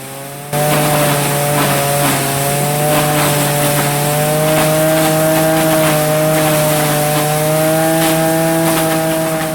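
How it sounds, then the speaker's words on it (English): Loud, continuous mechanical grinding of a hammer mill grinding cob corn on an Amish farm, with a steady engine-like drone and high whine, starting abruptly and holding constant throughout. "This is the cob corn being fed into the hammer mill at the top of the machine."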